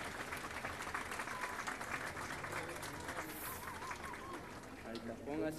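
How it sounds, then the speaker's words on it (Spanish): Crowd applause for a mayor at an outdoor forest festival, a steady broad wash of clapping that runs the whole time while someone speaks over it through a PA. "Fuerte el aplauso, señor, para su intendente."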